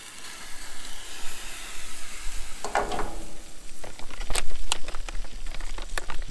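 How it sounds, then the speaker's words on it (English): Water heating for an emergency food supply meal starts as a soft hiss, then breaks into irregular bubbling and popping that grows busier toward the end, close and fairly loud with no talking. "we've got a boil."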